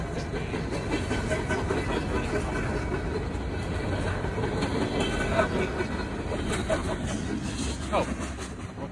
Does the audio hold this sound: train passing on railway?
yes